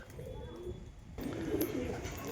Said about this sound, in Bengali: একটা কবুতর এসে বসে আছে দেখলাম